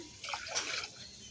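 Water for boiling pigeon pea dal is poured into a cooking pot in a home kitchen, a short, soft splashing pour lasting under a second.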